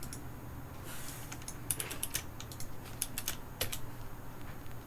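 Steady typing on a computer keyboard during a website installation, with rapid clusters of light key clicks and brief pauses, close and fairly quiet with no talk.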